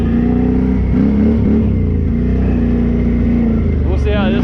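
A Can-Am 650 ATV engine labors steadily up a small hill, a loud continuous drone with shifting pitch as the throttle changes, and a brief rise near the end; a voice talks over it.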